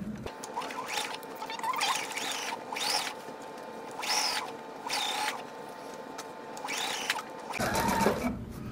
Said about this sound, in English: So now we're gonna sew. So remember to backstitch.